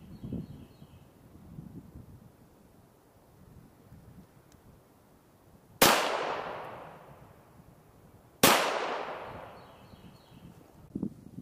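.22 pistol firing CCI Segmented Hollowpoint rounds outdoors: two sharp, loud cracks a few seconds apart, each with a short decaying ring, over faint wind.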